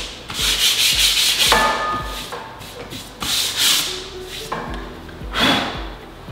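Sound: sanding a wooden shiplap joint with sandpaper

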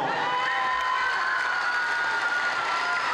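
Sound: audience applause for Laura Peña

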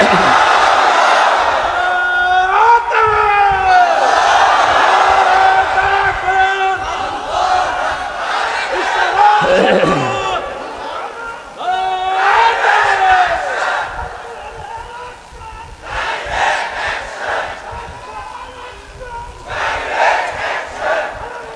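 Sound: crowd chanting takbir response at religious gathering

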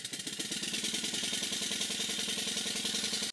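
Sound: Stuart Models beam engine running

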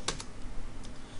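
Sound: typing a Java compile command on a keyboard

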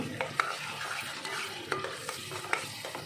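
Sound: sautéing mushroom chickpea gravy in a pan

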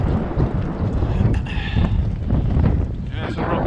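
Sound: wind blowing, cycling outdoors

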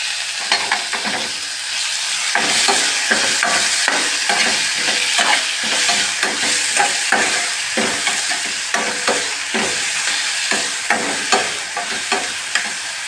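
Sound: tomatoes being stirred and roasted in a frying pan

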